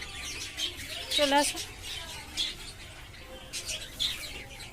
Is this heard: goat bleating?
no